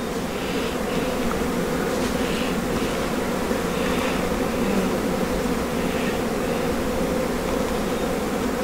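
Honeybees buzz in a dense, steady drone throughout a hive check in an apiary, with individual bees passing close now and then over the continuous hum.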